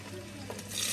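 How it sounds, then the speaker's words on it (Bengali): Garlic frying in a pan while cooking ramen gives a short burst of steady sizzling hiss that swells louder toward the end, with no voices. "আমার গার্লিক গুলো ফ্রাই হয়ে গেছে।"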